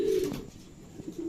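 Racing pigeons coo softly nearby, low throaty calls rising and fading within a moment, with no voices.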